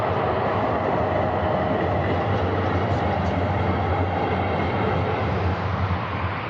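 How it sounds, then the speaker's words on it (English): An old tram rolls past on a city street in Antalya, a loud continuous rumbling roar with no break, close and full throughout. "In Antalya they have these old trams."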